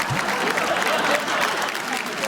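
A studio audience on a Marathi TV game show applauds, a steady, full round of clapping and crowd noise that holds evenly throughout the short moment.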